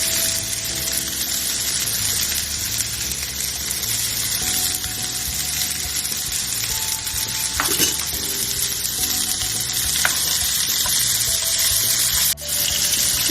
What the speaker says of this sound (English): Now we put shallots and chili. Now we put mushroom.